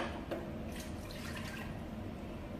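Water scooped and poured back into a cooking pot of spicy chicken peanut soup, a soft splashing trickle with a brief clink near the start, quiet and close.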